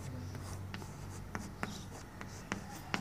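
Pen or marker scratching out handwritten math steps on a board or page, quiet strokes with a few sharper taps, faint and close with no talking.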